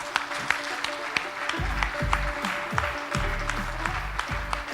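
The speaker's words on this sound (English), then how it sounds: "ladies and gentlemen, a round of applause for Mr." Audience applause at a business summit in Bangladesh, a steady wash of clapping with a few sharper individual claps over a low hum, moderately loud and sustained throughout.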